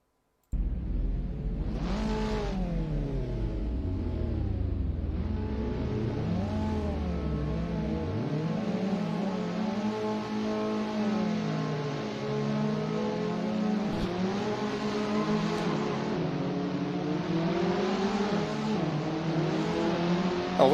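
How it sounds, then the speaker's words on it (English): Race car engines roar and rev in a sim racing game replay of an event at Magione, with engine pitch sweeping up and down through gear changes and cars passing one after another, steady and continuous with no talking. "Now let's watch Mike's race."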